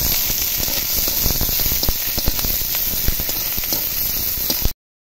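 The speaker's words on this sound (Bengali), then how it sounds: "কেটে রাখা পেঁয়াজ, রসুন কুচি, কাঁচা লঙ্কা দিয়ে ভালোভাবে পেঁয়াজটা ভেজে নেব" Onion, garlic and green chilli fry in a hot pan with a steady, dense crackling sizzle that stays close and even throughout, with no voices, before cutting off abruptly.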